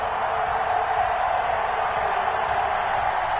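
A stadium crowd in an EA Sports NFL game, Chargers against Chiefs, roars as a steady, dense wash of noise, even and unbroken throughout with no clear voices.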